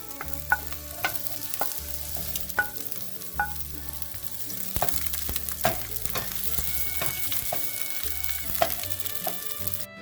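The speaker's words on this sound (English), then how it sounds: "Saute it till the tomatoes and jalapenos become soft." Garlic, green tomatoes and jalapenos sautéing in a pan for green salsa, with a steady sizzle and repeated clinks and scrapes of a utensil stirring against the pan, close and moderately loud with no talk.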